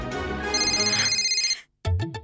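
A loud electronic mobile phone ringtone trills with rapid warbling tones, cuts off abruptly, then a brief bit of Hindi speech follows.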